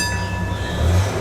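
The Red Train tour train in St Augustine, Florida rolls along its rails with a steady low rumble and faint tonal hum, continuous and close, with no talk.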